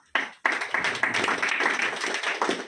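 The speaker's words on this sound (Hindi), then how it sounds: "तो आप सभी तालियों के द्वारा सहयोग देंगे।" Hands clap together as an audience applauds at an annual day celebration, a dense, steady burst of clapping that starts abruptly after a brief pause and carries on close and fairly loud.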